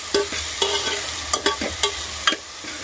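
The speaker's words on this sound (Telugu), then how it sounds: "ఇది కొంచెం గోల్డెన్ కలర్లో వచ్చేంత వరకు ఫ్రై చేసుకోవాలండి." Mushrooms frying in a pan with a steady sizzle, broken by several sharp scrapes and clinks of a utensil stirring them at irregular intervals, close and fairly loud, with no talk.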